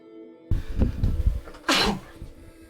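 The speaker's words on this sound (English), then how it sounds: "Sorry, had to sneeze again." A single sharp sneeze bursting out close and loud, after a breathy intake, with quiet room tone around it.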